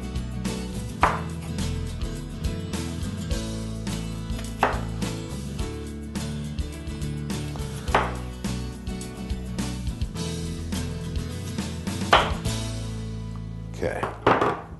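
A knife slices through baked pork chops on a cutting board, producing several sharp, separate chops spaced a couple of seconds apart over a low, steady background, with a quicker burst of cuts near the end.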